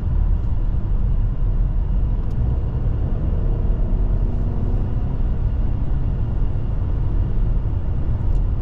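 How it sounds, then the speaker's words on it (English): Steady wind and road noise inside a 2024 Buick Encore GX Sport Touring small SUV while driving, a continuous low rumble and broadband hiss that holds even and loud without pauses. "You get a little wind noise, you get a little road noise."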